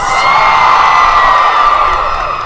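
Loud, continuous crowd cheering and whooping for the Ravenclaws fills a Harry Potter evening tribute, a thick wall of excited voices with high shrieks, steady from start to finish.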